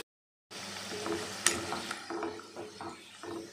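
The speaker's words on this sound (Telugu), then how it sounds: "బిస్కెట్స్ అన్నీ ఇట్లా గోల్డెన్ బ్రౌన్ వచ్చే వరకు మనము వేయించుకోవాలి" Maida biscuits sizzle in hot oil over a low flame, a steady close crackle and bubbling that starts after a brief silence, with small clicks and a sharper tick partway through.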